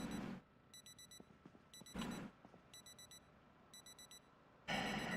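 Repeated electronic beeping of a wristwatch alarm going off in Project Zomboid, sounding in four quick bursts between louder thumps, fairly clear against quiet background.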